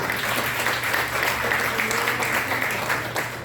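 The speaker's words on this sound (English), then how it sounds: "A round of applause, please, for Mr. Charles Pedicure." Steady applause from an audience at a store launch event, moderately loud and continuous across the whole stretch, with a faint murmur of voices underneath.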